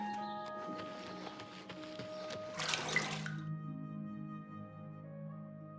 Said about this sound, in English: the well makes like a water noise when you go into it